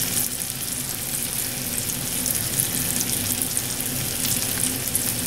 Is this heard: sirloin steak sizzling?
yes